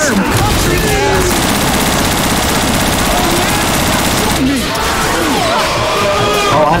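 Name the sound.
gunfire in the video game Left 4 Dead 2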